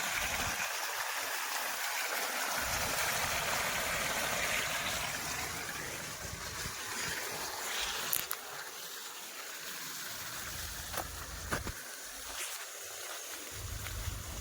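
Irrigation water flows onto grass on a farm, a soft, uneven splashing and trickling that stays fairly quiet, with a few brief knocks and occasional lulls in the low rumble.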